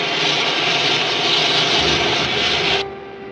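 A rocket ship's jet engine roars as a loud, steady hiss that cuts off abruptly near the end, leaving a quieter low hum.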